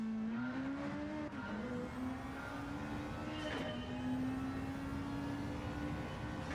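A Nissan GT-R race car in a racing video game time trial, a sustained engine drone whose pitch rises and dips slightly, steady and moderately loud with no talk.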